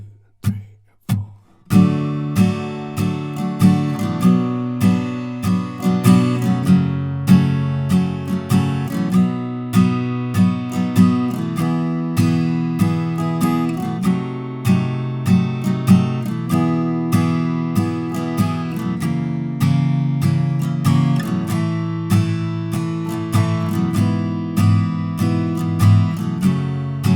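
Strummed acoustic guitar playing the chords of the first verse of a song, a steady rhythmic strum with clear chord changes that starts after a short pause and runs continuously, with no voice.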